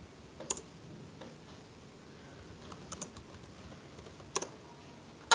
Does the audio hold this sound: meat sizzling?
no